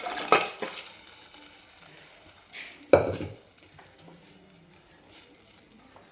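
Pressure-cooked mutton being stirred into masala in a pot, heard as scattered scraping and clinking strokes of a spoon against the metal, with a faint sizzle underneath, close by and moderately quiet.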